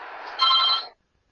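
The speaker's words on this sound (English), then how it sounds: "Somebody's ringing you." A telephone rings in one short electronic burst of about half a second, bright and fairly loud, then cuts to silence with no voices around it.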